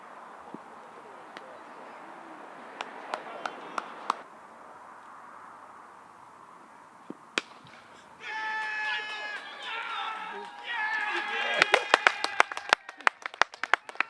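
A cricket crowd at a T20 club match applauds, starting with scattered claps, then swelling into a louder burst of cheering and sustained clapping in the final seconds, partly under talk.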